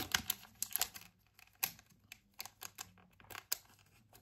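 A small packet being cut open with scissors gives soft crinkling plastic rustles and sharp close snips and clicks in irregular bursts separated by quiet gaps, with no speech.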